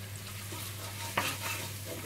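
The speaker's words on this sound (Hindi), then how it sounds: "ये डाल के थोड़ा सा फ्राई करूंगी।" Green chili and salt fry in a pan with a steady, soft sizzle, and a single sharp clink of a utensil stirring partway through.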